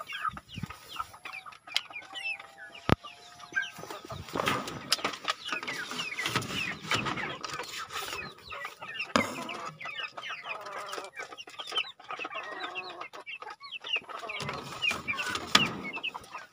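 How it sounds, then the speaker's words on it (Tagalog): Chickens, including a broody hen, cluck and call on a farm in a busy, uneven stream of close and distant clucks, with occasional clatter and no talk. "Yung mga manok, check din natin."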